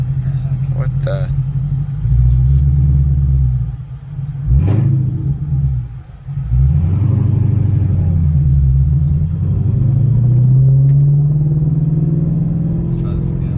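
A car engine revs loudly in repeated bursts, rising and falling with a deep, rumbling drone, then settling into a long climbing rev; people talk over the engine noise throughout.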